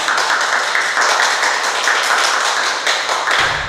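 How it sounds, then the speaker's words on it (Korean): A steady wash of dense applause fills a hall at an academic conference on the Baekje Mireuksa temple site stone pagoda, even and sustained for several seconds, fairly loud, with no voices. "다시 한번 내 의뢰인분께 감사의 큰 박수 부탁드리겠습니다"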